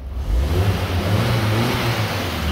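A car engine revving steadily and evenly after its dirty spark plugs were cleaned, with no misfire. The sound is close and loud and runs alone for a few seconds with no talk.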